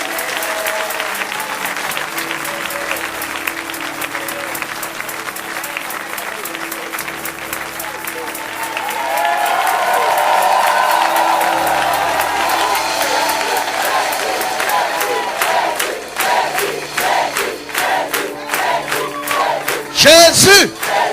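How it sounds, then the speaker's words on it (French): A church congregation claps and cheers loudly and steadily, crowd applause with shouts rising in the middle and continuing to the end, voices mixed in. "On acclame Jésus."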